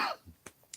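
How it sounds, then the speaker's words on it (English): A soft throat-clearing cough from a man, followed by a couple of faint short clicks or small coughs, quiet and close with no words spoken. "excuse me, coughing again"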